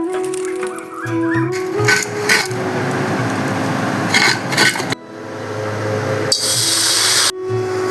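An electric mixer grinder grinds prawn heads, giving a loud, close whine in several separate bursts with short pauses between them.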